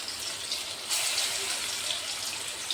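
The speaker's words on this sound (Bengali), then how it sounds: "তেল গরম হয়ে গেছে, আমি এখন বড়াগুলো ভেজে নেব।" Small soybean fritters (bora) frying in hot oil, a dense, bright bubbling hiss close by with a slight swell partway through.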